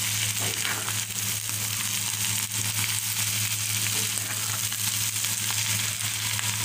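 Bitter gourd with onion fries and sizzles steadily in a pan, a loud continuous hiss with occasional scraping from stirring, close by.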